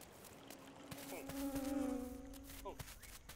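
Steady buzzing of a bee in the farming game Dinkum, a sustained drone that swells to its loudest in the middle and then fades slightly, alone with no talk over it.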